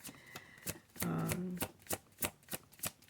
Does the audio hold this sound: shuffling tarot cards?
yes